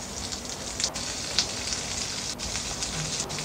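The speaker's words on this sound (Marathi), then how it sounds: "तेल गरम झालं की याच्यामध्ये आपल्याला ही भेंडी टाकायची आहे." Stuffed okra (bhindi) sizzles steadily in hot oil in a pan, a dense, even crackle with a few sharper pops.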